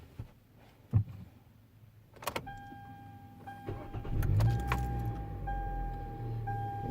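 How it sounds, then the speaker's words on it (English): A 2013 Hyundai Elantra, whose wipers and heating and cooling aren't working, is shut off with a key click and jingle, followed by a steady electronic chime and a low hum. "Turning it off again."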